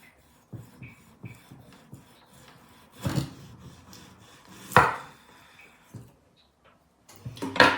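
Knife cutting through a mackerel on a board: scattered soft scraping and crunching strokes, a few louder bursts of slicing pressure separated by quiet pauses, close and without talking.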